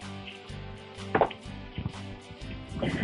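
A cabbage seedling in a plastic container gets tapped a few times to loosen it, giving a few soft knocks over a steady background hum, with a rustle of handling near the end.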